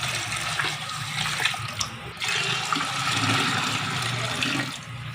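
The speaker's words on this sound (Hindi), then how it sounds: "तो इसमें हमने वाटर डाल दिया है, पानी।" Water is poured into a cooking pot holding onions for a chicken gravy, a close, steady rushing splash lasting about five seconds with no talk.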